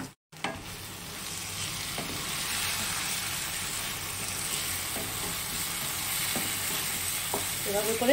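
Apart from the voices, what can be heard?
jackfruit and prawn curry being sautéed with spices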